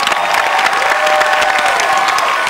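Studio audience of about a hundred people at a Thai television game show applauding and cheering, a dense continuous patter of clapping with shouts mixed in.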